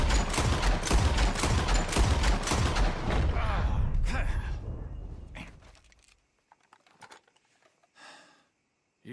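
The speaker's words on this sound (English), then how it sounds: "As soon as you see them, start shooting" Rapid gunfire fills the first several seconds in Red Dead Redemption 2 as birds are shot, dense overlapping reports that fade out, followed by sparse faint clicks and mechanical sounds near the end.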